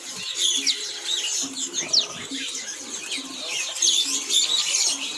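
Several small caged birds, including a Nias myna and a magpie-robin, chirp and tweet in quick, overlapping bursts in a bird shop kiosk, with a soft cooing note and some low background murmur.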